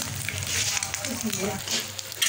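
An egg fries half-done in oil on a tawa with a steady, close hiss and light crackle, and someone talks over it.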